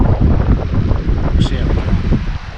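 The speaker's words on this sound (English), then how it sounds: "This wind could cause us a few issues trying to get back down the loch to find somewhere to camp" Strong wind buffets the microphone on a Scottish sea loch, Loch Etive, a loud continuous roaring rumble with gusty surges, steady throughout with no clear talk.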